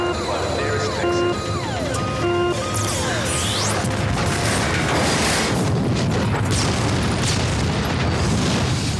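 A powerful explosion bursts out after a warbling alarm tone, followed by a loud, sustained crashing roar of rumbling debris that fills the space close by.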